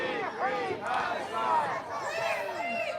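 Crowd of protesters chanting at an Al-Quds Day rally, a dense mass of overlapping raised voices in continuous rhythmic shouting, with counter-protesters cheering nearby.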